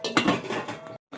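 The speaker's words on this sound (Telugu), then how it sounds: "మనం మూతను తీసి ఒకసారి చూద్దాం." A metal lid lifted off a pot of simmering fish curry, a clattering scrape of metal on metal lasting about a second, followed by a brief pause and another light clink.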